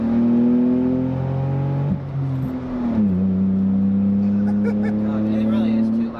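Turbocharged Smart car with the muffler deleted drones loudly and steadily as the engine note dips and shifts, heard from inside with the windows down while people talk over it.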